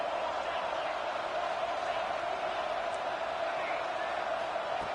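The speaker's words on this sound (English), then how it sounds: "And here comes the noise. This crowd is trying to inspire this defense to make a big red zone stop." A stadium crowd roars in an American football video game during a red zone defensive stand, a dense, steady wall of cheering that holds at one level throughout.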